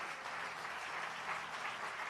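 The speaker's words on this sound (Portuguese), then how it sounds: "E dê o melhor aplauso ao Senhor que você puder." A church congregation at a Portuguese-language service gives a brief round of applause, a soft and even patter of many hands clapping heard from a distance.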